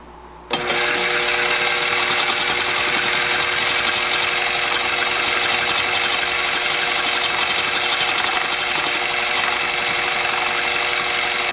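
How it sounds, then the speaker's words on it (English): A KitchenAid food processor slicing celery stalks and leaves on its lowest setting: the motor kicks in abruptly and keeps up a steady, loud, close whirring drone with a continuous mechanical hum, with no voices. "Now I'm just going to put this through my KitchenAid food processor"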